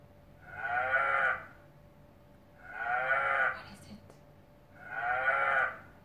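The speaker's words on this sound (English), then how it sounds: "It was a cow." Three drawn-out moo-like farm animal calls, evenly spaced and fairly close, each lasting about a second with quiet pauses between them.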